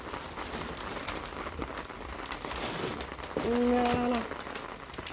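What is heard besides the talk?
rain falling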